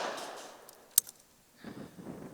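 A single sharp shotgun report at a skeet range as a clay target flying at about 80 km/h is hit, a brief loud crack standing out against quiet outdoor background with some low rumble afterward.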